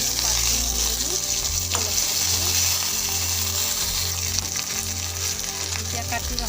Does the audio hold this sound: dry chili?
yes